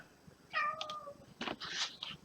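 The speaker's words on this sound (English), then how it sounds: "There's a cat meowing at me." A cat meows close by, giving a clear drawn-out call followed by a shorter, rougher second meow, loud against a quiet room.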